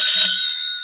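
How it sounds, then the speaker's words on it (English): A telephone bell rings steadily as a radio drama sound effect, a sustained bright electric ring held at close range for the whole moment with nothing else over it. "Phone's ringing."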